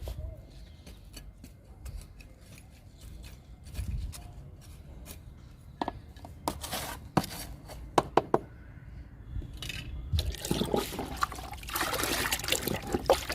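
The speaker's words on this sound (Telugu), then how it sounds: "చుట్టూ లూజ్ చేసి ఇద్దాము లిక్విడ్ని" Liquid fertilizer is poured around a potted plant with loosened soil, a soft trickle and splash that grows louder near the end, among light scraping and handling noises close by.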